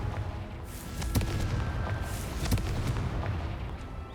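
A Confringo blasting spell explodes in Hogwarts Legacy, a loud, sustained rumbling roar with sharp crackling bursts layered through it and no voices.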